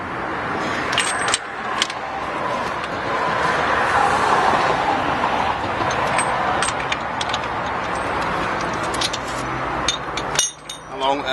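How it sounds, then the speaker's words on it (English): A breaker bar works a wheel nut loose on a Peugeot 207 rear wheel, with metallic clinks and scrapes over a steady broadband rumble and a sharp clank near the end. "With the large breaker bar, it goes fairly easy."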